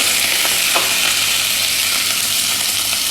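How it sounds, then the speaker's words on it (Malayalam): Mustard seeds and fenugreek splutter in hot oil while a mango and carrot pickle is being made. The loud, continuous hiss and crackle of frying carries faint pops throughout. "കടുക് പൊട്ടണതിൻ്റെ കൂടെ തന്നെ നമ്മൾ ഉലുവ ഇട്ട് കൊടുക്കുന്നുണ്ട്"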